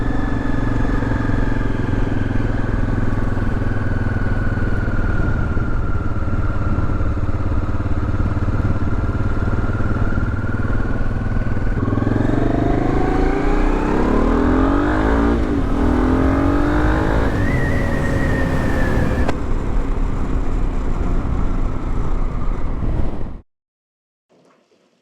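Rebuilt Honda XRV750 Africa Twin motorcycle riding with a loud, steady engine drone close by, rising and shifting through the gears in the second half before cutting off abruptly near the end.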